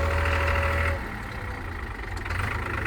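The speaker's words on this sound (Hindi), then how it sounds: "ट्रैक्टर को बंद कर देते हैं" A tractor engine, part of a tractor caravan, idles outdoors in Solang Valley with a steady low rumble that drops slightly in level partway through, with no talking.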